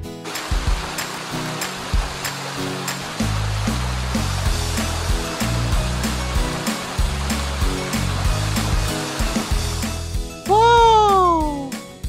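Water is poured into a sandbox with toy cars to make a river, a steady rushing, gurgling flow that runs continuously before a brief high tonal sound rises near the end.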